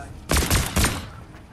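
Gunshots ring out in the Nitemare Royale game, a quick cluster of loud, close shots followed by a fading tail.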